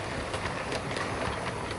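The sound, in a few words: Bachmann Southern Class E4 model locomotive running pulling coaches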